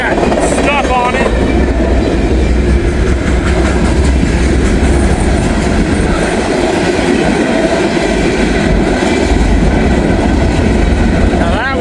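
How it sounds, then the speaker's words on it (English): A loud freight train with hopper cars rolls past close by, giving a constant heavy rumble with rhythmic wheel clatter and a few brief squeals, passing in Walton. "Now that was a good train here."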